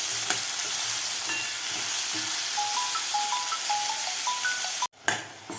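Onion sautéed on a high flame in a pan, a dense, continuous loud sizzle with a few faint tonal beeps over it and a sudden brief drop near the end.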